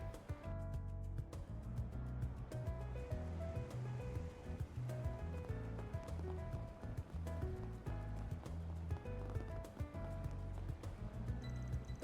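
Riverside waterfront ambience in Trails Through Daybreak: lapping water and soft surf under a steady bed of game music with clopping, hoof-like rhythmic ticks, continuous and fairly loud throughout.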